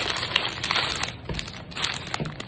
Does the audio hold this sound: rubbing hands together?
no